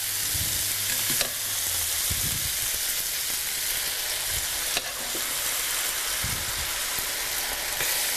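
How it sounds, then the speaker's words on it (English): Drained pasta sizzles loudly and steadily in a hot pan with mushrooms, with occasional scraping knocks as it is stirred; no talking. "I love that sizzle."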